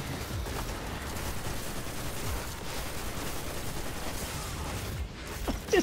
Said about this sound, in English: Why are you shooting at me?